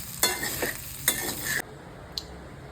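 Sabudana khichdi with peanut powder is stirred in a pan over low heat, with a few distinct scraping strokes and soft sizzling before it quiets, then one more faint scrape.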